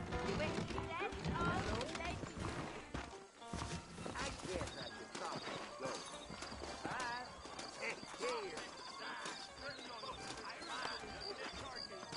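Steady clip-clop of horse hooves runs throughout, with a horse whinnying and voices talking over a busy, music-like background.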